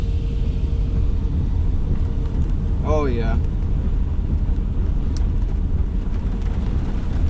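Tornado near Verona, Missouri, a broad steady roar with wind buffeting the microphone across the whole stretch, while people talk briefly over it.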